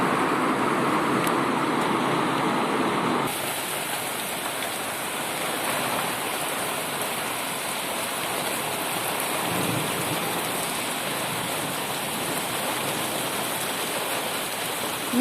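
Rainwater running off a garden and streaming down a path during a thunderstorm, a steady broadband wash of flowing water and rain that continues throughout the clip.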